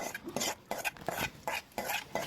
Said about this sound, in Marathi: मिक्सरच्या जारमध्ये काढून घ्यायचं आहे